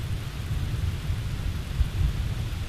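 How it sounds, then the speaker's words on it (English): Heavy rain and blustery wind roar together in a dense, constant wash of noise, with low rumbling gusts swelling now and then. "The rain and wind persisted for 3 days."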